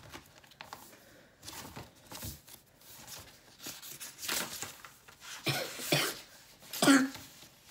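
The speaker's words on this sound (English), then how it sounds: "And I also have a cough." A person with a cough coughs several times in short, hoarse bursts that grow louder toward the end, close to the microphone, with no talk.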